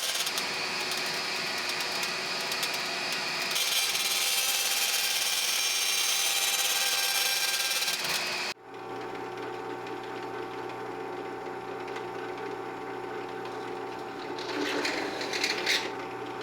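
A power drill grinds through metal ducting on a BMW E46 M3 in a steady, harsh whir for several seconds, then cuts off abruptly, leaving a low hum and faint clatter.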